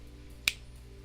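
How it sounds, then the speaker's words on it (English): One crisp finger snap cracks out sharply and close, a single brief click against a faint, quiet background hum. "Try snapping your fingers."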